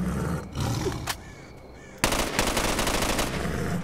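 Automatic gunfire in the video game S.T.A.L.K.E.R. Call of Pripyat: a loud, rapid burst of shots cuts in after a stretch of rumbling game ambience and keeps rattling steadily to the end.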